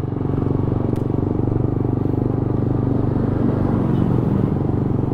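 A motorcycle rides along Jalan Tidar in Surabaya, an area of exhaust specialists, and shifts into third gear, its engine a steady loud, close rumble with fine pulsing throughout and no talk.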